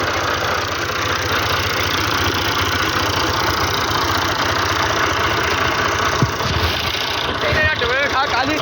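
A heavy tractor engine, a 480 model, runs steadily nearby with a deep, constant rumble, while a voice speaks briefly near the end.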